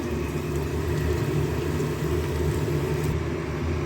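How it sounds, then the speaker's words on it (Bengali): Paneer cubes fry in hot oil in a pan for a dhaba-style masala dish, giving a dense, continuous sizzle and crackle close by at a steady loud level. "এইভাবে সবগুলো পনিরই ভেজে নেব।"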